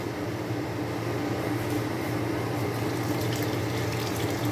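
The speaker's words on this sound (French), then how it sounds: "On va rajouter un peu d'eau." Water pours steadily into a couscous sauce in a kitchen, a continuous rushing splash at moderate volume with no break and no talk.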